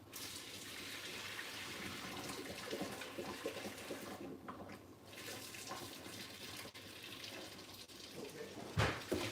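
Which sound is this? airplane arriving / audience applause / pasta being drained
pasta being drained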